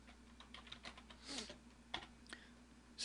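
Fingers type the ipconfig command at a command prompt on a computer keyboard, producing a quick, irregular run of light, close clicks with a slightly louder keystroke near the end.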